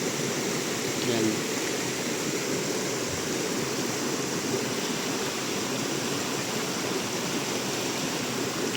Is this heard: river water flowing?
yes